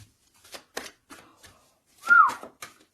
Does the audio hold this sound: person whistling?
yes